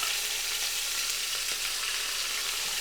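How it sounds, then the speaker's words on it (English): Beef rouladen sear in hot oil with a loud, steady, close sizzle that continues without pause and with no voices. "Put them right into the oil there and leave them alone"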